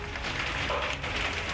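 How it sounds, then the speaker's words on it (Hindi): Hail and rain fall in Haridwar, Uttarakhand, a dense steady patter of drops on surfaces filling the brief moment without pause. "उत्तराखंड के हरिद्वार के कई इलाकों में देर रात तक जमकर ओलावृष्टि और बारिश हुई।"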